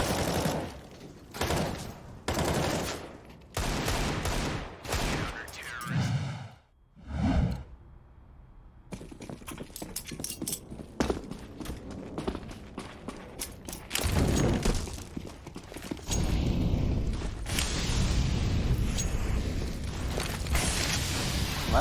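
Rapid bursts of automatic gunfire spray through a wall in a Counter-Strike match on Overpass, loud and repeated in clusters with brief pauses and a whooshing gap between volleys.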